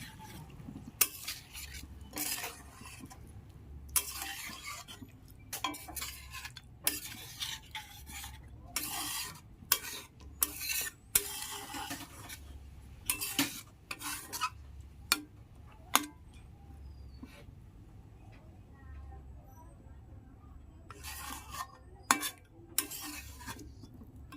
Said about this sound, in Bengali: এবার এতে আমি অল্প একটু জল অ্যাড করব